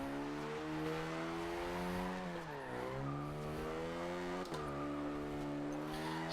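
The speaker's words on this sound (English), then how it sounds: "Mostly I just wanted to show off the fact that I built a Mini that can drift." A Mini built for D-class drifting in Forza Horizon 2 slides with a sustained tire squeal over a steady, revving engine drone, the pitch dipping and recovering as it holds the drift, loud and continuous throughout.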